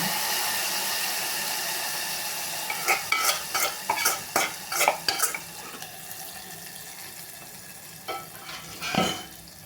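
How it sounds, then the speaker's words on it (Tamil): Mustard seeds, fenugreek, dried red chillies and chilli powder hit hot oil for a pulicha keerai (gongura) tempering, giving a cluster of sharp crackling sizzle bursts midway over a low steady hiss, then a few softer pops. "இப்போ நம்ம வெந்தயம், வரமிளகா, மிளகாத்தூள், கடுகு எல்லாத்தையும் போடுறோம்."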